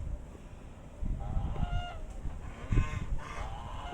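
Geese honk in a farmyard, a few nasal calls rising over low rumbling background noise, somewhat distant and moderately loud.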